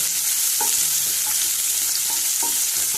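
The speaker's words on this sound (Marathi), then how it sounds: "पॅनान ओनियन म्हणजे कांदो घातलो. आतां हे भाजता." Garlic and onion frying in a pan for a Goan horse gram dish, a loud, constant close sizzle with occasional light taps of a spoon stirring, no voices.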